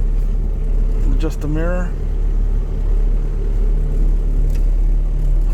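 Engine of an old Toyota car without power steering, a steady low rumble while driving, with a short spoken phrase over the noise partway through.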